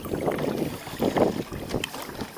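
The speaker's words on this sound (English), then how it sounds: "it is a windy day." Gusts of wind at Marsh Creek Lake buffet the microphone in uneven rushes, rising and falling over a few seconds with no one speaking.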